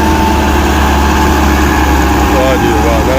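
A tractor's engine runs loudly and steadily at a tractor fair, with an unbroken low rumbling drone and a faint rising whine near the end.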